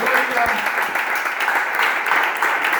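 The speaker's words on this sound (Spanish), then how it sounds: "Dale un aplauso al pueblo de la gloria." Church congregation applauding during a service, a sustained, fairly loud wash of clapping from many hands with voices mixed in underneath.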